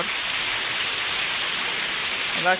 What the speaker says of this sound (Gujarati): એટલો વરસાદ પડે છે